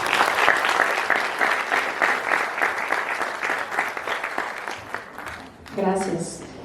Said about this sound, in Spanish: Recibámoslas con un gran aplauso, por favor.